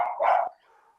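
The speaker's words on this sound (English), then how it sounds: "the dog started barking" A single dog gives one short, fairly loud bark with a brief whimpering tail, heard indoors at moderate distance.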